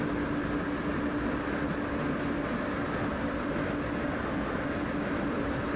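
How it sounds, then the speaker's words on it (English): Electric train driven in Train Simulator Classic in India, a steady broadband running rumble with a constant high whine and low hum, continuous and even throughout, with no voices. "Then I remembered I'm driving an electric train."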